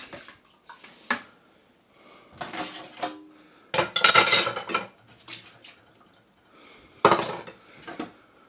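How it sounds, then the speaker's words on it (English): Washing up by hand: dishes, pots and cutlery clatter and clink in bursts with splashing water between them, close and fairly loud, separated by short quiet pauses. "Right, it's time to do the washing up."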